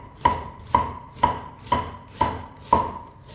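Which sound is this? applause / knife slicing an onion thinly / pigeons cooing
knife slicing an onion thinly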